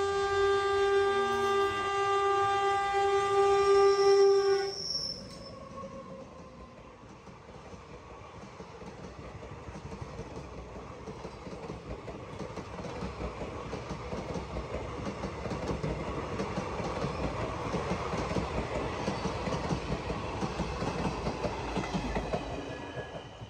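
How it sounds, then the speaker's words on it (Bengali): A train horn blares for a few seconds, then the steady rumble and clatter of a passing train builds and continues, close and loud. "আজকে আমরা 12টার ট্রেনটা ধরছি"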